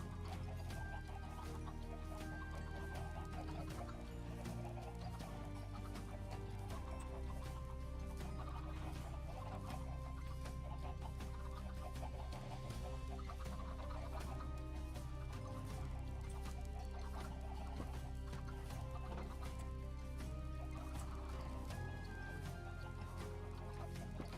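Chickens in the Minecraft video game cluck in short scattered bursts over a continuous bed of game background music, the fowl calls faint and intermittent throughout.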